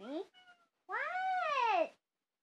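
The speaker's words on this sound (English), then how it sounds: "Ladies and gentlemen, my cat." A pet cat gives a short chirp, a brief pause and faint tone, then a long drawn-out meow close to the microphone, loud and clear with nothing else heard.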